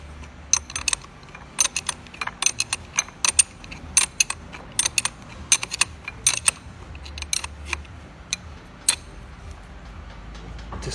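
Spanners tightening a Mustang hose reel swivel fitting: a run of small metallic clicks and ticks, irregular and close, scattered over quiet background with no talk.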